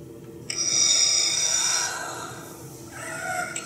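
A mechanical, raspy breathing effect from a Darth Vader Black Series toy helmet, imitating a damaged respirator: a long hissing inhale followed by a shorter exhale, close and steady.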